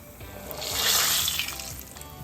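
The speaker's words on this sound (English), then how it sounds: "We're ready to fry our ice cream." A scoop of ice cream drops into hot oil at 375 degrees, setting off a steady rush of bubbling and fizzing that swells and then settles, heard up close with no talk.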